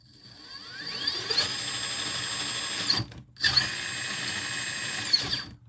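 Furitek Komodo 1400KV brushless motor driven by a prototype Tegu ESC in a 1/10 RC setup, throttled up twice to a loud, close, high-pitched electric whine that holds steady, then cuts briefly before spinning up again.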